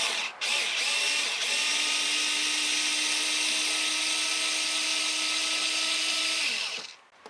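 A Xiaomi Mi cordless screwdriver whirs at a high, steady pitch while driving a screw, running close and loud for about six seconds before winding down.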